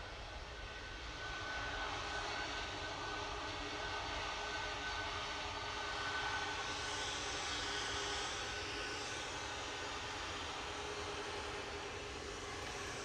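A Jet2 airliner takes off at Manchester Airport, its engines roaring in a steady, loud, broad rumble that holds for the whole stretch with no voices.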